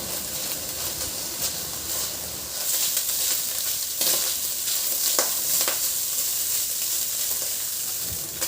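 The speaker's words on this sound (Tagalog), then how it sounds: "I-sear ko muna yan hanggang sa maglabas lang yung sarili niyang mantika." Ground pork sears in a pan with a loud, steady sizzle and spatter that swells after a few seconds, broken by repeated scraping strokes of a utensil across the pan; no voices.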